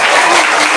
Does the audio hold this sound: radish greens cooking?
no